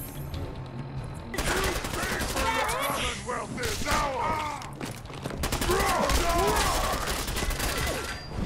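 Rapid bursts of gunfire in the video game Fallout 4, sustained rattling volleys with short pauses, heard loud alongside a strained, shouting voice.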